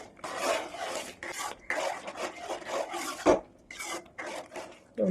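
A spoon is dragged through thick jackfruit halwa cooking with ghee in a pan. It makes repeated close, rasping scrapes in uneven strokes, with short pauses between them and no talking.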